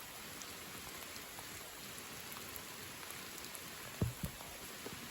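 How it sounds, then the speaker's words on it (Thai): Steady rain falls outdoors in a rural Isan setting in Thailand, a soft continuous hiss of drops on surfaces with a couple of brief nearby knocks, fairly faint and without speech. "ฝนตกแล้วพี่น้อง ฝนตกอ่ะนัง"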